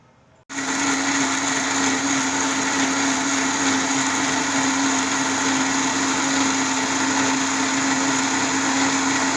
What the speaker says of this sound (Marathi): आता हे सगळं वाटाणे आता मिक्सरमध्ये टाकलेलं आहे आणि आपण याला आता वाटून घेऊया